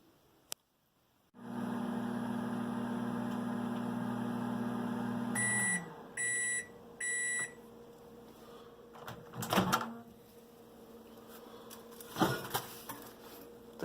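A microwave hums steadily for several seconds while heating a breakfast bowl, then three short electronic beeps sound, followed by a door click and some light clattering.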